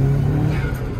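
Turbocharged Mazda Miata MX-5 launching hard off a DIY launch control, a loud close engine roar at high revs holding steady for a brief moment.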